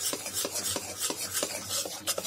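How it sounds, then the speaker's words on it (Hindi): Gram flour roasts in ghee for besan laddu while a spoon drags through it in a steady rhythm, producing repeated rasping scrapes about three times a second, close and clear, with no talk. "आप देखिए बेसन ने थोड़ा सा घी छोड़ दिया है, हमें इसको भूनते हुए 5 मिनट हो गए हैं।"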